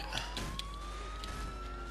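A police car siren in the video game Grand Theft Auto IV wails with a slowly rising tone over a low rumble, moderately loud and steady for the whole stretch.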